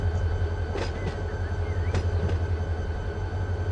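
A Norfolk Southern locomotive in the Run8 train simulator game, a steady low diesel rumble with faint squeaks and clanks on top, constant and close, with no talk.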